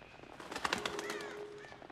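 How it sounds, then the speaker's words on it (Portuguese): A bird in the Until Dawn video game takes flight with a quick burst of flapping and chirping calls, fairly faint and alone, the chirps trailing off after about a second. "Vocês viram que esse passarinho aqui voou?"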